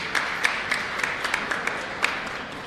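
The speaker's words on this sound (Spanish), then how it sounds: "Fuerte el aplauso" Scattered claps ring out in a church during Mass, a thin, uneven patter of applause from a small group rather than a full crowd, against a roomy background.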